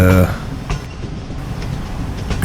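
Passenger train rolling along smooth track at low speed, with a steady muffled rumble and faint rhythmic clatter heard from inside the carriage after a brief voice at the start.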